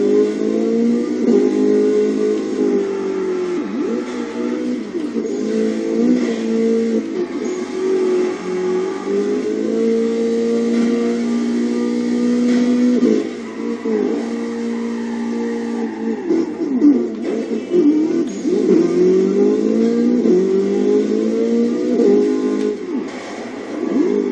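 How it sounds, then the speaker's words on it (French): A car engine in the racing video game Burnout Paradise drones and revs loud and steady. The pitch climbs and falls again and again as the car accelerates and shifts, with brief rough patches that may be tire scrubs. "je vais continuer à rouler jusqu'à trouver la deuxième"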